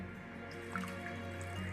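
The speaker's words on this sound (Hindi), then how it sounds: "छानने के बाद हम इसे ठंडे पानी से अच्छे से धो लेंगे" Cold tap water runs over drained macaroni pasta in a kitchen, a soft steady stream with faint dripping over a constant low hum, with no talking.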